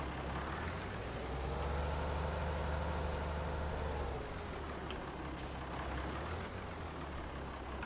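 Deutz DX tractor engine in Farming Simulator 22, a steady low diesel drone that swells slightly, then eases, with a brief hiss near the end; moderately loud and alone.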